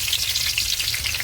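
Green chillies frying in coconut oil in a pan, a steady close crackling sizzle with dense hissing pops throughout and a low hum beneath, no voices.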